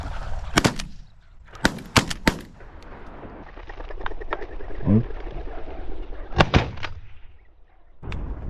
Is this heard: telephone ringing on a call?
no